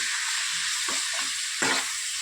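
Green chillies, salt, cumin-coriander powder and red chilli powder fry in a pan, a loud steady sizzle with a few scraping stirs breaking through, close and alone.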